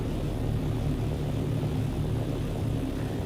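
Steady droning engine hum from a propeller plane in the video game Dune: Awakening, continuous and fairly loud with no talk over it.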